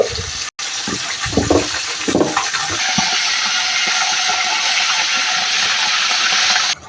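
Steady sizzling hiss of fish frying in a pan, continuous and fairly loud, with a few clinks and knocks near the start.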